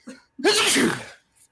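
A single sharp human sneeze, close and fairly loud, with a quick intake of breath just before it and a faint trailing sound after.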